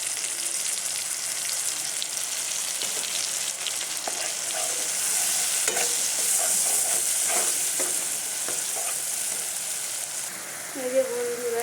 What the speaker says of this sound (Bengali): টমেটো পেঁয়াজটা ভাজা হয়ে আসছে।